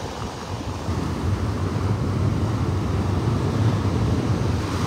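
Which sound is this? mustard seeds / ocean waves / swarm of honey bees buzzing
ocean waves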